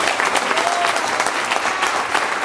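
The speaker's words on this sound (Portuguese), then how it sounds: "Dê uma salva de palmas ao Senhor Jesus." A church congregation at a baptism service claps in praise, dense, loud, continuous applause filling the room with a few voices mixed in.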